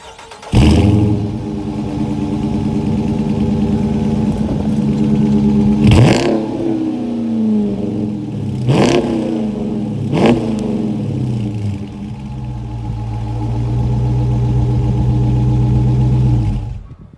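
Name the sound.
2017 Dodge Charger Daytona engine revving, exhaust sound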